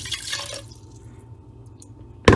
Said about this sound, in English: I'm pouring this water back into the chicken